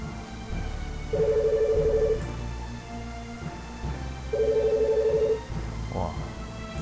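A telephone rings twice in a game setting, two sustained buzzing tones about three seconds apart over steady game sounds and background noise.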